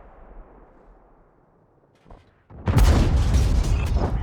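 A tank cannon fires in a tank combat video game, one sudden loud boom followed by a sustained rumbling roar after a quiet stretch with a faint hum and a small mechanical click.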